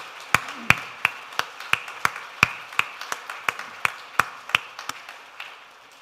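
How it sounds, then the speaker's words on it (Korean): A congregation at a Christmas Day church service claps in an even rhythm, with sharp, crisp claps spaced at regular intervals in an otherwise quiet room. "다시 한번 감사의 마음을 담아서 박수하겠습니다."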